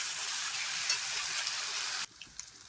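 Mutton masala sautéing in oil in a pan, a loud, dense hiss and sizzle that cuts off abruptly, leaving a few faint clinks and quiet sizzling.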